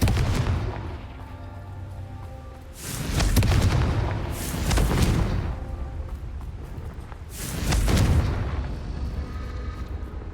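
Confringo fire spell explosions from a Harry Potter video game, with three big booming blasts, each swelling and rolling for a second or two before fading, loud and close, with no talking.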